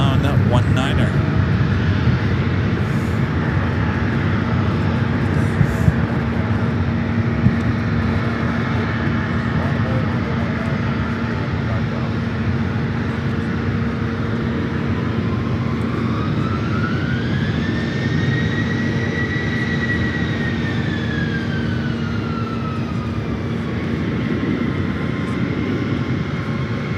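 A jet airliner rolls down runway 19 at Reagan National on its takeoff run, a loud steady engine roar with a rising whine partway through, while people talk over it.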